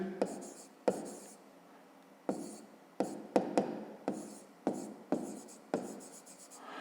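A pen writes on paper in a math exercise for grade 5, with repeated short scratchy strokes and taps in bursts, close and quiet; no one speaks.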